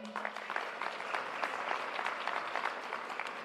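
Steady applause from a crowd of many hands fills a school graduation ceremony honoring graduates, dense and continuous throughout without any voices on top.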